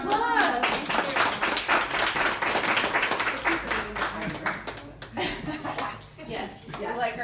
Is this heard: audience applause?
yes